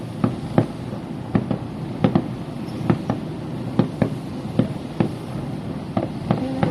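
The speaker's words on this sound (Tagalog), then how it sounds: "May fireworks." Distant National Day fireworks in Singapore pop and bang in irregular bursts, roughly a dozen sharp reports over a steady outdoor murmur, heard from a bedroom.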